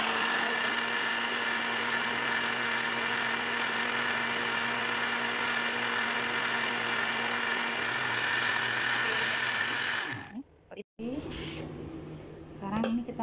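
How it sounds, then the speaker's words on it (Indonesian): A blender motor whirs loudly and steadily for about ten seconds as it purées spinach with one to one-and-a-half glasses of water for a crispy snack, then cuts off abruptly, leaving quieter kitchen handling noises. "Ini bahan-bahan mau kita blender ya teman-teman."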